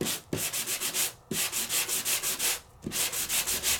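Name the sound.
sanding an embossed surface with sandpaper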